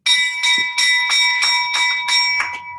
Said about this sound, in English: And of course, the bell.